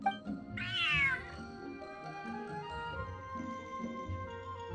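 A cat in the Genshin Impact video game gives a single clear, rising-and-falling meow near the start, over a soft musical background.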